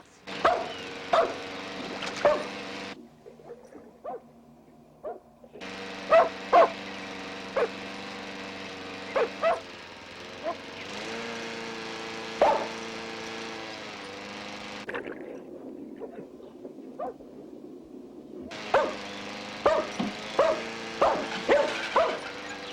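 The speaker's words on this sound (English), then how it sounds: "Mickey, go see what the hound is barking at" A hound barks in repeated bursts of sharp yips and bow-wows, with short pauses between volleys and a steady mechanical drone running behind.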